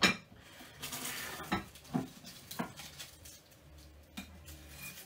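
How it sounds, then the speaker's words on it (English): A knife cuts a wedge from a flaky chicken and chorizo pie with mozzarella, producing a series of soft crunches and clinks of metal on a dish, close and fairly quiet. "Let's cut a generous wedge."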